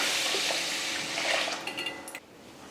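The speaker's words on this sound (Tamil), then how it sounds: "தண்ணி ஊற்றி ஊற வச்சிடலாம்" Water pours steadily over soaking idli rice in a metal vessel, a broadband wash with faint clinks of the container near the end, close and alone without talk.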